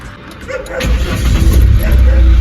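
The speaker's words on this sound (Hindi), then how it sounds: "चलो इसको करते हैं स्टार्ट जी, कोल्ड स्टार्ट।" A car engine cold-starts up close: a short crank, then the motor catches with a loud burst and settles into a rough, throbbing idle that continues to the end.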